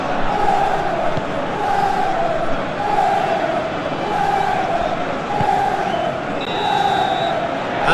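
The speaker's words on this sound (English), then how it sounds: "it's good to see that the crowd appreciate his efforts" Simulated stadium crowd from the football video game PES 2021 during a UEFA Champions League match between FC Porto and Liverpool FC, a steady loud roar of cheering with swelling chants throughout, under a commentator's voice.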